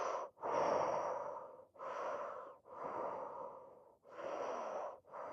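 Deep, audible breaths in and out during a fascial stretching class, about five long airy cycles with short pauses between, close and steady, with no talking.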